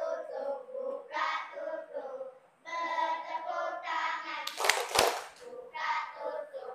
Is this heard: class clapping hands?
yes